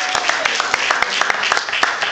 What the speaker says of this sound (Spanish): Dele un aplauso al Rey en esta noche